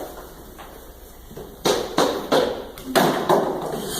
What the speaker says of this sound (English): he knocked on my new office door